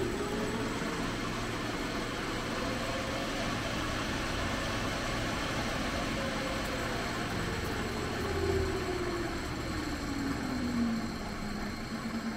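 A Clausing metal lathe runs in direct drive with no gears engaged, driven by a VFD at 2000 RPM, giving a steady mechanical hum and whir with a faint tone that slowly shifts in pitch.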